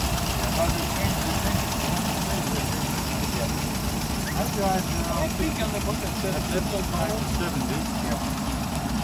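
A Rolls-Royce car engine hums steadily during driving, a constant low rumble heard beneath someone talking throughout.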